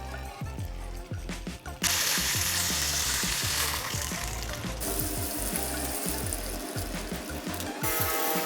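Pieces of meat coated in flour frying in hot oil, a loud, steady crackling sizzle that surges when food drops in, with a few clanks of utensils and cookware underneath.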